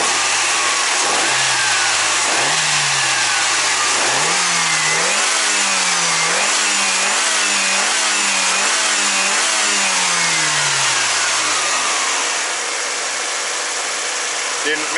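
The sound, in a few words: car engine being revved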